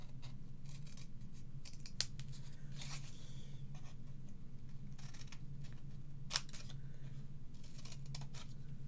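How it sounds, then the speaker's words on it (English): Scissors snip steadily through scored paper card while a mitre is cut for a card-in-a-box project, with a continuous close crisp cutting texture and a couple of sharper snaps. "I'm going to take our scissors now and we're literally going to cut up a mitre"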